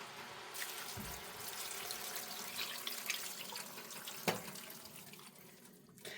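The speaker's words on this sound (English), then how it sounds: "I'm going to go ahead and add the water." Water runs steadily from a tap into a pot of cabbage, a constant splashing stream with a sharp clunk partway through and the flow tapering off near the end.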